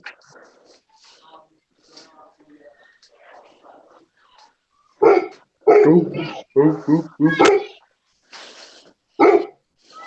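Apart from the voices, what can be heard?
dog barking and whining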